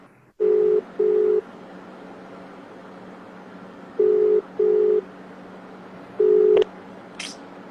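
An unanswered phone call rings out, its ringback tone coming in paired bursts, two short tones, a long pause, then two more, over a faint hiss with no voices.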